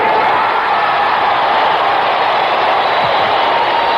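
Dense stadium crowd roaring at a 1977 New York Cosmos v. Santos match as Pelé emerges from the tunnel for his farewell game, a loud, sustained wall of cheering and shouting with no pause.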